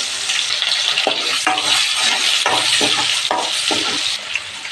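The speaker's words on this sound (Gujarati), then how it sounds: "એક ચમચી હિંગ અને એક નંગ ડુંગળી છે મોટી મોટી મેં કાપી દીધી છે" Onion, mustard seeds and asafoetida frying in hot oil in a pan, a loud steady sizzle with stirring scrapes breaking through at intervals, close up and without talk.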